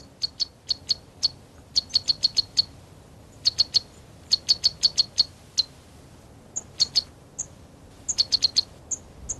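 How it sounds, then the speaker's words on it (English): A sunbird perched on the tall flower column of a giant lobelia in the Virunga highlands of Africa repeats quick bursts of thin, high chirps in clusters, clear and close over a quiet background. "A sunbird sits on the 10-foot flower column of a giant lobelia."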